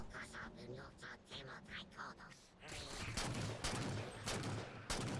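Halo video game gunfire: rapid bursts of automatic shots crackling through the mix, sparse at first then dense and loud in the second half, with game sounds and some voice underneath.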